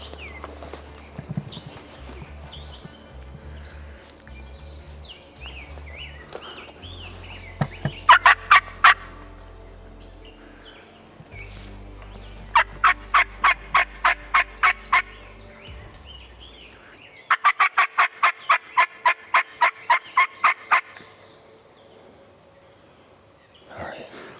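Wild turkeys gobble and call outdoors on public land, with several rapid rhythmic bursts of sharp calls repeating in quick series, loud and fairly close, interspersed with quieter rustling and outdoor ambience.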